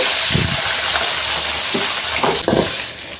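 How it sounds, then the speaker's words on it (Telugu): Chicken pieces for chicken pickle deep-fry in hot oil, a loud, close, continuous sizzle with crackling bursts as the pieces bubble. "ఆయిల్ బాగా హీట్ అయిన తర్వాత ఇప్పుడు ఈ చికెన్ పీసులు అయితే వేసుకునేయాలి"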